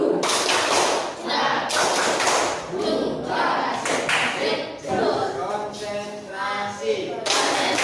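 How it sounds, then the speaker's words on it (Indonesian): A class claps together in a rhythmic Indonesian clapping game, bursts of clapping alternating with brief chanting voices, close and fairly loud. "Kita tepuk semangat bersama-sama."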